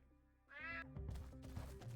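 A cat's meow in the video game Unmetal, a single clear drawn-out cry followed by muffled game sounds.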